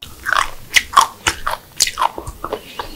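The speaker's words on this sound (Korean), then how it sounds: "전혀 물러지지 않고 아삭아삭한 식감이에요" Crisp, crunchy chewing of pickled perilla leaves, salt-brined for two weeks, with a rapid series of sharp close bites and crunches and no talking.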